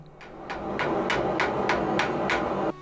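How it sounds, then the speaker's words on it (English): Hand hammering during forge welding of a Damascus steel billet: eight even, ringing hammer blows at a steady rhythm over a constant forge roar, loud and close. "I start by forge welding the billet by hand."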